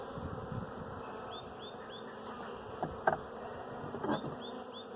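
Bees buzz close by while being handled during queen rearing, a steady droning hum with a few sharper, louder buzzes passing near, no talking.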